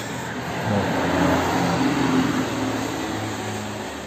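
A 2005 turbo car running on its original factory exhaust gives a low, steady engine hum with a faint rise in the middle, moderately close and fairly quiet, with no talk.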